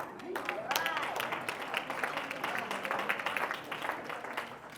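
Crowd applause breaks out during a Dania Beach State of the City address as city revenue figures are announced, a moderate wash of clapping over room noise, with a brief voice at the start.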